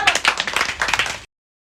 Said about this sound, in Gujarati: હવે તાળીઓ પાડો